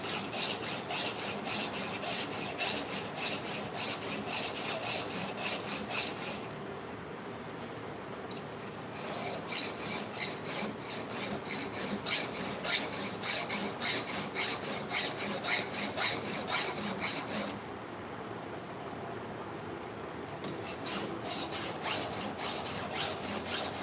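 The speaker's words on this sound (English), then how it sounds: "You're not going to see a guy sharpening a chainsaw." A hand file sharpening a chainsaw chain, steady rhythmic rasping strokes repeating close up and loud, with two short pauses between runs of strokes and no talking.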